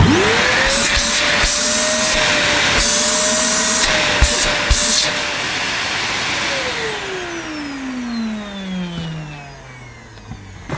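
A Dyson DC25 upright vacuum cleaner runs with its hose detached and a clogged filter, producing a loud, close, continuous motor whine that shifts pitch partway through and then winds down toward the end.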